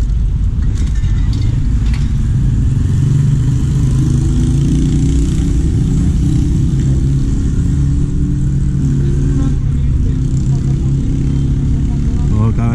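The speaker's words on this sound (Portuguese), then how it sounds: "O cara vai ficar acelerando" A car or motorcycle engine keeps revving and accelerating during a graffiti session, its loud low rumble running continuously throughout with faint background noise.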